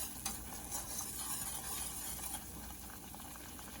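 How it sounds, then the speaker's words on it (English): A thick mixture stirred in a pan over high heat for a Thanksgiving dish, with steady scraping and soft bubbling sizzle, close and continuous without talk. "make sure you keep stirring it so it does not burn, because the heat is up pretty high"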